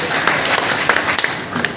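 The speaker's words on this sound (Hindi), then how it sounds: "तो तालियां बजाइए।" A magic show audience claps in a brief, busy burst of overlapping hand claps, fairly loud and close, with no voice over it.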